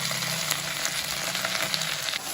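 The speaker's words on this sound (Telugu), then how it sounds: "ఇలా నూనెలో వేయించుకోవాలి" Dry red chillies and tamarind fry in hot oil, crackling and sizzling loudly and steadily at close range, with small pops scattered through and no voices.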